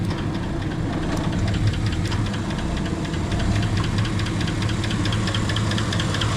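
A car engine idles steadily with the air-conditioning compressor engaged, giving a continuous close rumble with a faint rhythmic knock and vibration running through the whole stretch.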